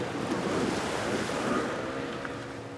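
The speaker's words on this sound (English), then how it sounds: "where the waves are breaking" Ocean waves break at the edge of a bay near Dakar, a steady broad roar of surf with wind buffeting the microphone.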